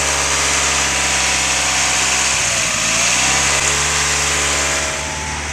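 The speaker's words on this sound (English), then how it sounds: "I think you have an exhaust leak." A 1990 Mazda Miata engine idles steadily and loudly up close with an exhaust leak, a low rumble and a raspy, puffing edge in the exhaust, no voices.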